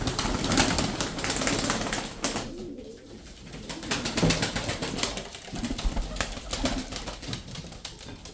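Tumbler pigeons coo and rustle nearby in a loft, soft repeated cooing mixed with fluttering wing flaps and scratchy clatter, with someone speaking over them for much of the time.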